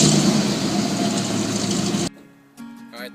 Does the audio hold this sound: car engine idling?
yes